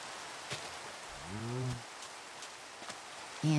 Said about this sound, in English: And there's still some rain here.